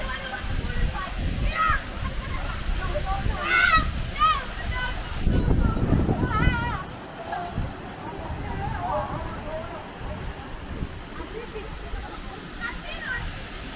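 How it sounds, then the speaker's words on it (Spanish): Water flows from rocks in the middle of a desert, giving a steady rushing wash throughout. Voices and faint chirping sounds come and go over it, and a louder burst of splashing rises briefly midway. "vean el agua que fluye de las rocas en medio de un desierto"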